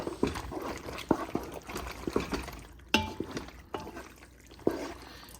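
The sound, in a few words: stirring sauce in a dish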